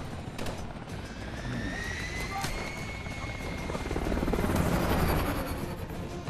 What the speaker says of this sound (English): Atlas choppers inbound!